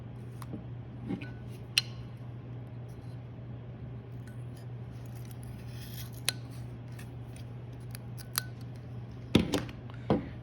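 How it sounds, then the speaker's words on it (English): A blade snips through a small truss member: a few sharp, faint clicks and cuts spaced over a quiet background hum, with a cluster of louder snips near the end. "I'm going to snip down and release."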